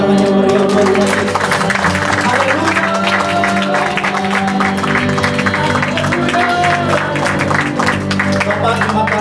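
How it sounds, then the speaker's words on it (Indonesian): A church congregation claps and cheers for Jesus after a sermon, producing dense, sustained applause mixed with crowd voices and music, loud and steady throughout. "Mari berikan tepuk tangan yang meriah buat Tuhan Yesus."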